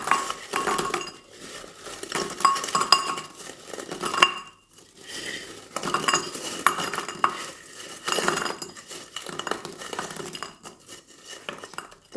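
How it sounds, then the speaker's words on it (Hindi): Crunchy sugar-coated shakar para, a fried sweet snack, is handled and shaken in a dish. The hard pieces give bursts of brittle clattering and clinking, with short quiet pauses between the rattles. "देखिए आप, मैं इसको निकाल के दिखाती हूँ, इसकी आवाज़ देखिए आप।"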